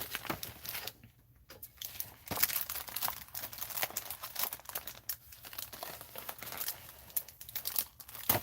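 Crafting stickers are pulled from crinkly plastic packaging, giving soft rustling and crumpling with brief tearing bursts, fairly quiet and close, no voices.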